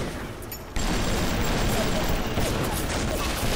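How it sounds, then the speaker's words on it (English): Rapid turret gunfire in the video game Bioshock starts abruptly and runs as a loud, dense burst of shots under steady game noise. "Go turret!"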